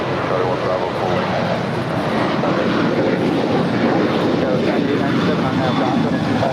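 An airliner taking off from runway 25 right at LAX, a loud, continuous broadband engine roar that stays steady throughout, with radio voices talking underneath.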